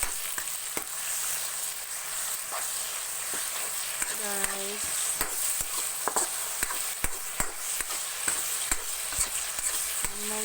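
Kangkong (water spinach) frying in a pan gives a steady sizzle, broken by sharp scraping clicks and clatters as a spatula stirs and tosses the greens.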